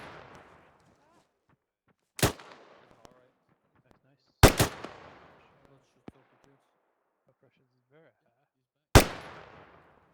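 Gunfire in a military firefight game, with three sharp, loud shots, the second a quick double, each followed by a long rolling echo and separated by quiet gaps with faint background sound.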